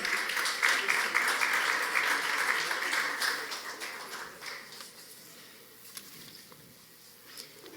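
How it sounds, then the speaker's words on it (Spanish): Audience applause at a forum welcomes a panelist, a dense burst of clapping that is loud at first and then gradually fades to scattered claps. "Un fuerte aplauso para recibir como panelista al señor Luis Calaf Sánchez."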